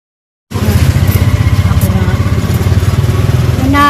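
A habal-habal motorcycle taxi engine runs close by with a steady, throbbing putter that holds for several seconds after an abrupt start.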